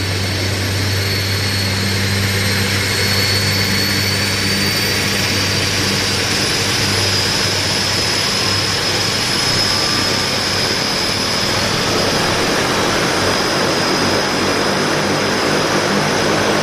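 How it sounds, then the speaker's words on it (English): A de Havilland Twin Otter floatplane at a Vancouver float base drones with a loud, steady propeller and turboprop engine hum and a high whine, sustained throughout without voices. "Twin Otter baritone."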